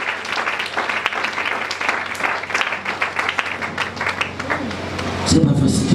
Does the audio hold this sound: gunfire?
no